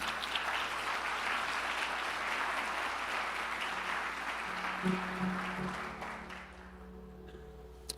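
Church congregation applauding during a worship service, a dense sustained wash of clapping from many hands that fades over the last couple of seconds, with a faint voice and low tone near the end.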